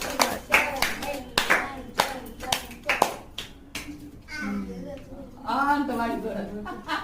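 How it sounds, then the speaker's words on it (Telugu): Hands clap at a birthday cake cutting, several sharp bursts in a loose counted rhythm early on, followed by children and adults talking and chattering nearby. "క్లాప్స్ కట్టండి"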